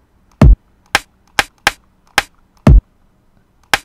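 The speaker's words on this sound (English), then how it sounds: "I've taken these two sounds, kick and the snare, and I've assigned them to keys." Kick drum and snare samples triggered from a keyboard in Logic's EXS24 sampler, seven sharp isolated hits in an uneven pattern, loud and dry with silence between them.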